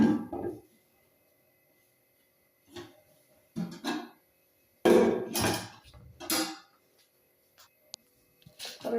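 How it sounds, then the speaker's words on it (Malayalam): A metal pot of boiling rice is lowered into a thermal cooker, giving a few close clanks and knocks of metal against metal in short separate bursts, with quiet pauses between. "തെർമൽ കുക്കറിലേക്ക് ഇറക്കി വെക്കാൻ പോകുന്നു."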